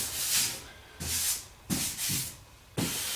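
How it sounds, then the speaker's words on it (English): Sandpaper rubbed by hand along the sharp edge of a car body line, a few separate breathy scraping strokes, close and fairly loud, with brief gaps between passes. "We'll just take our sandpaper."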